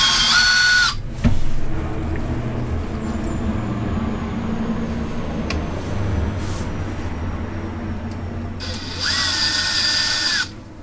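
DeWalt power drill during an Arrma Infraction RC car build: two short, loud whirring bursts, one at the start and one near the end, with quieter workshop handling noises and a clunk between them.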